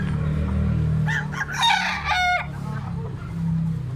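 A rooster crows once at a busy Cebu poultry market, a loud stepped cock-a-doodle-doo in the middle of steady crowd murmur and low background noise.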